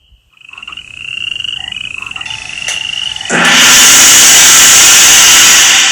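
A dense chorus of croaking frogs plays in a Bible drama about the plague of frogs, starting thin and faint, then building into a loud, constant ratcheting din.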